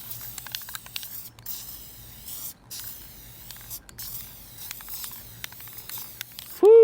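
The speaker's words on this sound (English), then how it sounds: "I'll go ahead and spray the glue on them right now" Aerosol spray glue hissing onto framing strips outdoors in a few sustained bursts separated by short pauses, with no talking.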